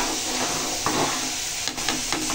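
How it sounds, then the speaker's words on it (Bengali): Masoor lentil dal cooked with onion bubbles away in a pot, giving a steady soft hiss with scattered faint pops and no voices. "ডালটা এখন ফুটছে"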